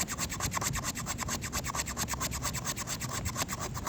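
A knife scrapes fine shavings off a piece of premium fatwood in a quick, steady rhythm of close, raspy strokes, about six to seven per second.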